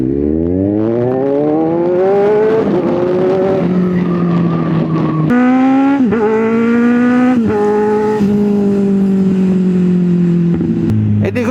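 A motorcycle engine revs hard and climbs in pitch, then blips sharply several times while downshifting with the clutch held in, loud and close with no talking.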